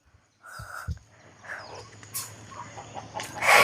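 Chickens clucking close by as they are fed chopped spinach, a few short calls and a rooster-like cry rising over a steady low hum and scattered pecking rustles.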